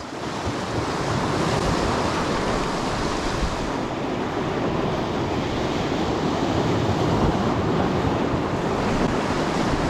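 Choppy lake water slapping and churning under strong wind while bass fishing in wind and rain, a steady loud broadband rush with wind buffeting the microphone throughout, no voices.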